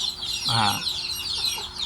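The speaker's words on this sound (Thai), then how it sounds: "ไก่ที่เราเลี้ยงไว้ในคอกควายนะครับ" Farm chickens kept in a buffalo pen cluck as they settle into their sleeping crates at dusk, a short burst of close clucking over a busy background of other birds and fowl.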